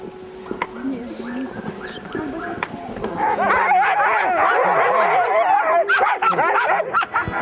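Half-husky sled dogs in snowy Lapland yip, whimper and bark excitedly, at first sparse and then building into a loud, dense, overlapping chorus close by.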